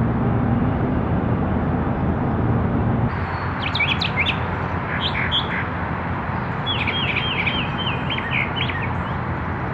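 Small bird chirps and calls outdoors in short bursts over steady background rumble, moderately near, with no talking.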